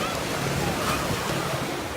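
Ocean waves wash steadily onto a beach close by, a continuous broadband surf roar without distinct breaks.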